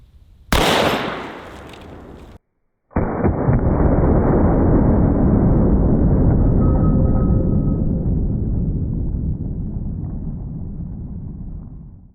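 A single loud .44 Magnum gunshot with a 300 grain soft point bullet cracks sharply outdoors, then after a brief gap a long, steady roar of wind or rumble follows and slowly fades.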